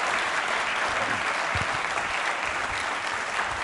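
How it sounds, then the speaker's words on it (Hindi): A school quiz show audience gives applause for a contestant, a brief burst of many hands clapping in a continuous wash, moderately distant and fairly soft. "बीनू जी के लिए एक बार तालियां और बजाइए"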